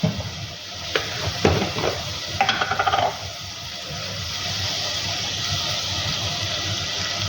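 Coriander, spices and salt roasting in a pot give a steady broadband sizzle, with a burst of spoon scrapes and clinks against the metal in the first three seconds, then continuous frying hiss alone.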